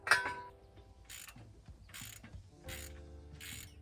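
A ratchet loosening the bolts on a hose mount on a Kubota L-Series Grand tractor during a remote hydraulic kit install, sounding as close, crisp clicking bursts that come in about four short runs with brief gaps, with no talking.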